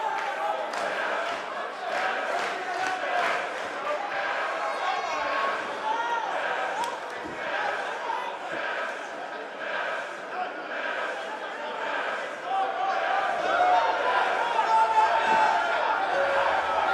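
Steady crowd roar and cheering from wrestling fans in the WWE 2K18 video game, Universe Mode NXT match, continuous throughout and swelling louder near the end, with commentary voices talking over it.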